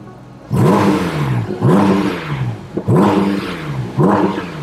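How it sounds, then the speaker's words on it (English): A Porsche 718 GT4 RS Weissach engine is revved four times with the exhaust open, giving a deep sound. Each blip is a loud, sharp rise that falls away before the next, heard up close with no talking. "then we can open the exhaust up. Here it's a much deeper sound."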